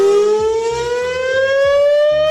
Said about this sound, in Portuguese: que doideira essa sirene